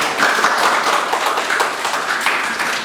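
A classroom audience claps for a biology class presentation, a steady, dense patter of many hands that holds at an even level from start to finish.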